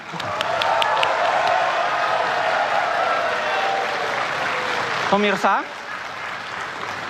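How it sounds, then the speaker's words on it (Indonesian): Studio audience applause at the first 2014 Indonesian presidential and vice-presidential candidates' televised debate, a dense steady clapping that carries on throughout, with a brief burst of speech near the end. "Kita tepuk tangan."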